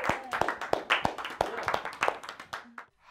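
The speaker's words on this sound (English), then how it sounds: "Everybody give a round of applause for Mark." A small group claps sparsely for a staff member at a haunt attraction, scattered uneven hand claps that are fairly quiet and fade toward the end.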